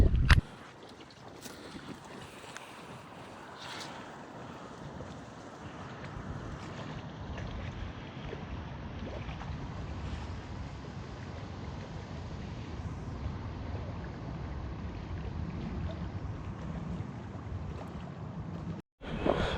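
Steady low wind rushing across a lake on a fishing outing, a continuous soft buffeting roar heard alone, with a brief dropout near the end.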